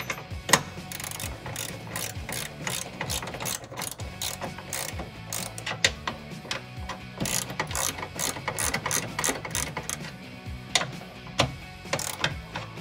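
Hand ratchet clicking rapidly while tightening bolts on a side step bar being installed on a 2019-2022 Ford Ranger, close and steady bursts of pawl clicks with brief pauses and clanks.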